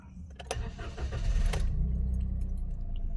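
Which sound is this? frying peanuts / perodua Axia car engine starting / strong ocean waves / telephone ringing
perodua Axia car engine starting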